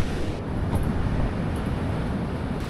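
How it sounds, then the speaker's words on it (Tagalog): Strong mountain wind buffeting a motorcycle tent at night, a constant rough roar with low rumbling gusts and faint flapping throughout. "itingnan nyo kung gaano pa nagkalakas yung hangin"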